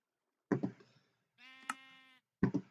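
Sheep bleat in the Minecraft video game, three distinct nasal bleats, two short and one drawn out, each alone against silence.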